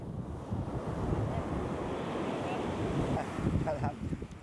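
Ocean surf washing onto a Bali shore, a steady broadband wash with wind buffeting the microphone throughout, with a few faint splashes near the end.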